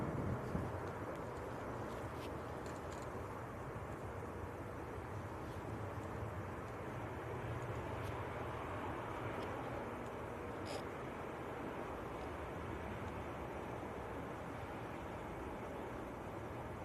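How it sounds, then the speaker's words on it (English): An Airbus A320 inbound from Vienna passes near Manchester Airport as a broad, steady jet rumble and roar that holds at an even level throughout, with no talking over it. "A320, I think it is."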